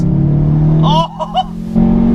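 Subaru Impreza RB320 engine held in third gear at about 3,000 revs, a steady, close, throaty drone that runs throughout, with a brief voice speaking over it midway.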